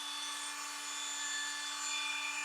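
A Dremel rotary tool whines at a steady high pitch while routing out a hole in a reverse bear trap prop build, close and continuous with no talking.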